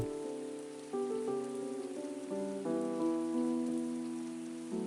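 Steady rain falls in a visual novel scene, a soft continuous patter sitting beneath sustained melodic background music, with no voices.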